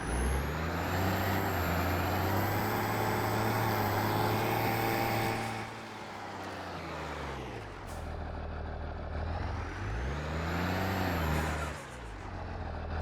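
A tractor engine with an open exhaust pipe in Farming Simulator 22 idles and revs, a loud, throaty low rumble that swells and dips in pitch over several rises, heard alone and close.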